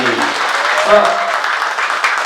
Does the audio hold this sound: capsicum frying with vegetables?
no